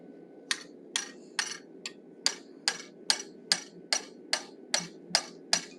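A hammer strikes a chisel while cutting the mouth of a forged wolf head, giving about a dozen sharp metallic taps in a steady, even rhythm, close and clear over a low background hum.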